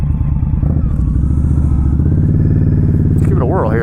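An Indian Scout Bobber Sixty motorcycle engine runs close by with a steady, throbbing exhaust note as the rider pulls away, and a voice briefly speaks near the end.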